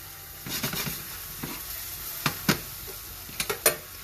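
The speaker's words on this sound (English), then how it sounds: "He's sauteing some chopped onions to go with the cauliflower rice." Chopped onions and chili peppers sauté in a hot pan for Asian-style pork with cauliflower rice, a steady sizzle broken by a few sharp stirring scrapes and clinks, with no talking.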